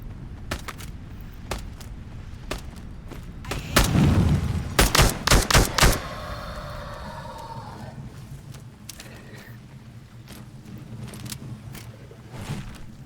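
Gunfire in a firefight in the video game Into the Radius 2: scattered single shots, then a rapid burst of several loud close shots followed by echoing tails, with sporadic distant shots continuing afterward.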